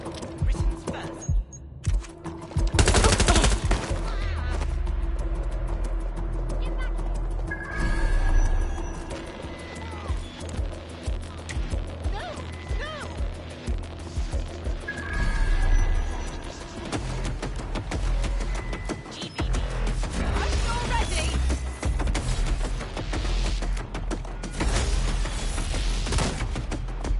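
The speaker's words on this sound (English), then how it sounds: "Shots fired!" Gunfire in Watch Dogs: Legion, set in London, bursts out in sharp clusters through a busy game mix with music and effects, loud and close, with speech over parts of it.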